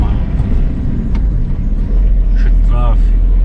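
Road traffic rumbles steadily around a camper van in a loud low drone, with a few faint higher tones over it and people talking inside.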